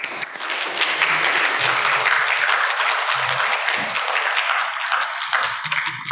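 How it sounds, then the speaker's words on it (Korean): A church audience in Vancouver gives a big round of applause to welcome their pastor to the pulpit, dense and loud clapping sustained steadily throughout with no speech. "우리 나오실 때 큰 박수로 환영하겠습니다"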